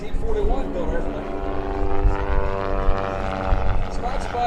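A 1941-built Interstate propeller airplane performs aerobatic rolls at an air show, its engine a buzzing, wavering drone close by, with an announcer talking over it.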